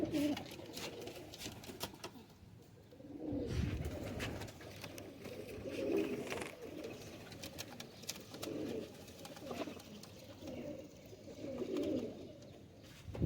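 Chanda Khani Gajra pigeons coo in repeated low, rounded phrases a few seconds apart, fairly close and steady against a soft background, with no talking.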